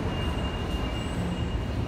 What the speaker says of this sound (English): That's a train terminating.